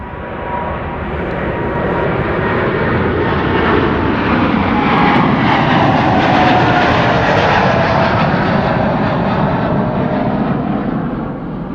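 Jet airliner taking off at Amsterdam Schiphol Airport: a loud, sustained broadband engine roar that swells and holds for over ten seconds, heard at close range with no voices.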